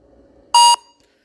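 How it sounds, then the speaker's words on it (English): Payment app beep after a scan to pay: one short, loud electronic tone lasting about a quarter second over faint background, then silence. "instantly, you will hear a beeping sound."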